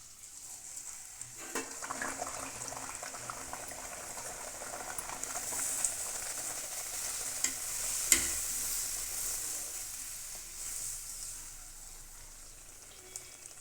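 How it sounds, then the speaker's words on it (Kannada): Ragi flour puri fries in hot oil over a medium flame, giving a faint, continuous sizzle and bubbling with a few soft clicks from the pan, and no voices are present. "ಎಣ್ಣೆ ಕಾದಿದೆ ಹಾಕೋಣ"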